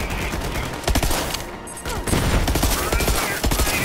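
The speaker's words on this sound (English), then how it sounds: "Oh, I see the difference in burst fire now." Burst-fire gunshots from the video game Borderlands 3 crack out in rapid clusters, loud and close, with short gaps between the bursts.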